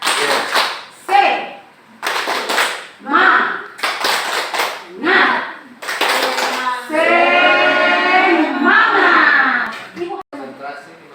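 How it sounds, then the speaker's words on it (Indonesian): A group of children and an adult perform a rhythmic spirit clap chant in a classroom, short bursts of sharp claps alternating with chanted words, ending in a sustained sung phrase. "Sekarang kita tepuk semangat ya Pak"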